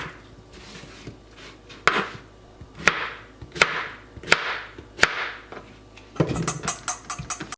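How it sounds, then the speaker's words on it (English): A knife chops zucchini on a cutting board in a home kitchen: sharp, loud, evenly spaced thuds that end in a quick burst of rapid chops. "Now we're going to chop up our zucchini."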